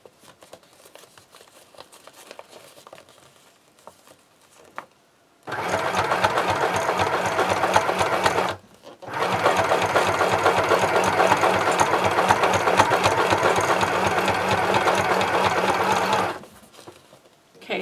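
Sewing machine stitching a tote bag, a steady rapid close mechanical whir in two long runs separated by a brief pause, with quiet handling sounds before and after.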